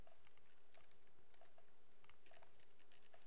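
Someone types on a computer keyboard in irregular, quick bursts of light key taps, close and fairly quiet, over faint room hum with no talking.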